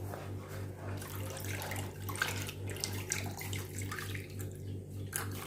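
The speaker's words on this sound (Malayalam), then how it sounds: "മിക്സ്ചർ നമുക്ക് ഇതിനകത്തോട്ട് ഒഴിച്ചു കൊടുക്കാം" An orange cornflour halwa mixture pours steadily into a pan as a faint, continuous liquid trickle over a low background hum.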